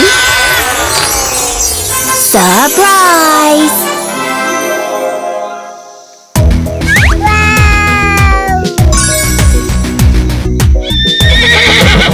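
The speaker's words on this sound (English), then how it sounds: "I'm a horse that says neigh, neigh, neigh" A cartoon horse neighs in loud, close, sweeping whinnies, then a second burst of brighter neighs and squeals follows after a short gap, with hoof-like clops mixed in.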